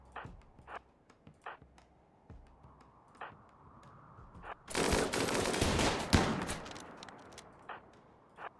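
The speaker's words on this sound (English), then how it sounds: "The minigun is a danger to society, brother." Minigun fire in RimWorld: a dense, loud sustained burst of rapid shots lasting about two seconds, set among scattered sharper single gunshots and clicks.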